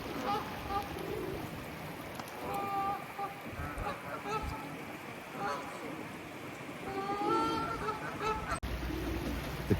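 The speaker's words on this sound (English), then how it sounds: "The Canadian geese have come over especially for a wash in the river." Canada geese honk repeatedly at a moderate distance over a steady outdoor background of running river water in Rochdale.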